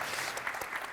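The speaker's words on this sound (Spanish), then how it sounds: "vamos a darles un aplauso para levantarnos un poquito el ánimo" Brief audience applause at a Spanish-language panel session on knowledge cities, a dense steady patter of clapping at moderate level with no voices on top.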